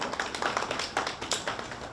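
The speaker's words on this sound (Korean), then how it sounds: "박수로 맞아주시기 바랍니다" An audience at a Busan labour forum on pet industry workers gives steady, soft applause to welcome a speaker, a dense patter of clapping from a seated crowd heard from some distance.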